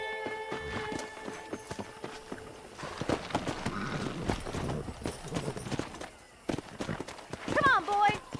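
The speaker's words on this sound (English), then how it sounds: "Let's see if we can't wrangle some horses." Rhythmic hoof clip-clops from a horse in Red Dead Redemption, mid-distance, under game music and a talking voice, with a brief whinny near the end.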